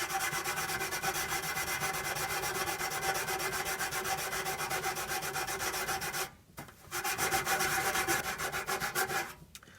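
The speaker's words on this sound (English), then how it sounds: "me scrubbing the Caravan hob" A caravan hob scrubbed with Revive Power Paste gives steady, close, rapid rubbing strokes in an even rhythm, with a brief pause before the scrubbing resumes, and no voices.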